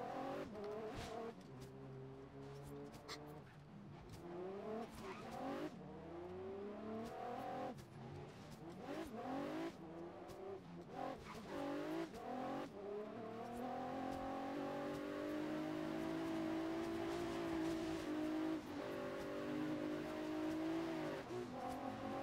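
Cars race in the Forza Horizon video game with continuous engine roar, repeated rising revs and gear shifts, and occasional tire noise. The sound stays loud and steady throughout, with no talking.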